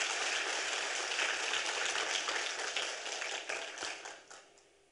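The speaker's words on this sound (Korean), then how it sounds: "우리 하나님께 박수 영광 돌리겠습니다" A church congregation at a Friday worship service applauds together, a dense, steady wash of many hands clapping that holds for about four seconds and then fades away.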